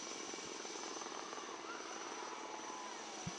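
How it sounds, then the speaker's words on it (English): Chetak and ALH Mark 3 helicopters fly a search and rescue demonstration at a Navy Day display off RK Beach in Vizag, giving a steady, distant rotor and engine drone throughout. "you are the indigenous helicopters Chetak and an ALH helicopter to demonstrate the search and rescue demo."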